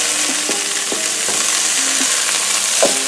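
Parrot fish frying Jamaican style in a pan, a steady close sizzle and crackle of hot oil with occasional soft clinks and scrapes of a utensil against the pan.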